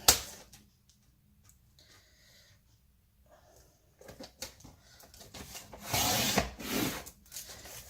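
Paper is trimmed for craft swaps. Faint ticks and light handling noises come first, then a louder scraping, sliding cut follows near the end, with no one talking.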